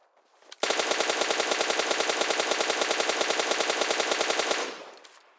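Automatic gunfire in a shooter video game rips out as one continuous, loud burst of evenly spaced rapid shots lasting about four seconds, then cuts off and leaves a short fading tail.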